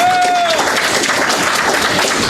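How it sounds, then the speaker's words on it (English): A live event audience gives a speaker a dense, sustained round of applause, loud and continuous throughout, with a brief tone fading out at the start. "a big round of applause for Scott Horton"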